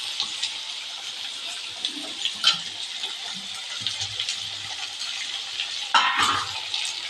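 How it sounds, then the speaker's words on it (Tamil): Coriander leaves, grated coconut and tamarind sautéed in a pan for sundakkai chutney, a steady soft sizzle with scraping stir strokes and a louder clatter near the end. "கொத்தமல்லி, தேங்காய், புளி இதெல்லாம் போட்டு நல்லா போட்டு வதக்கிடணும்"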